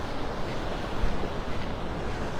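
A breeze blows off the sea along Vanderbilt Beach in North Naples, Florida, producing a steady roar of wind across the microphone mixed with the wash of nearby surf, with no voices.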